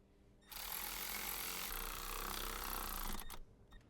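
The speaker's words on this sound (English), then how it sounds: "Use a small 10mm deep socket with a small extension bar and a small electric wrench to tighten the fixing screws of the engine plug bracket" A small electric wrench with a 10mm deep socket and extension tightens the engine plug bracket screws on a 2012-2017 Jeep Wrangler, whirring in one steady close burst of about three seconds with no talking.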